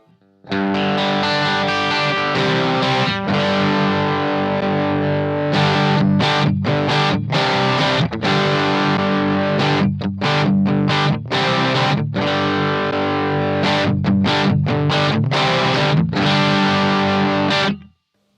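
Heavily overdriven electric guitar through the vintage channel of a Bluguitar Amp1 Mercury Edition amp without boost, loud sustained distorted chords with brief stops between strums, played alone.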